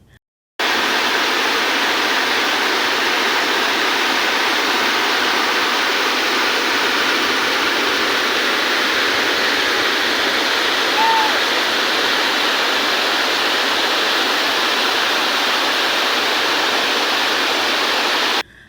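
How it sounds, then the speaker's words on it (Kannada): A steady, full rush of falling water from a small rain-fed waterfall near Bailu Vaddigeri village, Hosapete, Vijayanagara district, India, continuous and fairly loud throughout with no voices. "ವಿಜಯನಗರ ಜಿಲ್ಲೆಯಲ್ಲೊಂದು ಮಿನಿ ಜಲಪಾತ ಸೃಷ್ಟಿಯಾಗಿದೆ"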